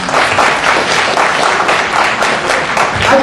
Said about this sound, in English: Let's give our panel a round of applause.